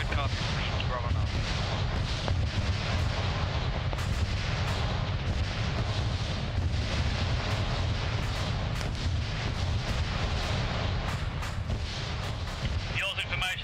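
Sustained gunfire and heavy artillery from a military combat game, a dense, constant roar of shots and blasts with voices speaking beneath the noise throughout.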